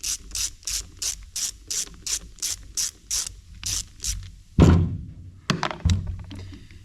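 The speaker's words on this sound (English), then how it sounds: "we're gonna go ahead and take the 4 bolts out of the top" A hand ratchet with a 7/16 socket loosens bolts on the carburetor top of a Farmall M antique tractor, giving quick rhythmic clicking bursts, then a few heavier clunks and rattles of metal as the bolts break free.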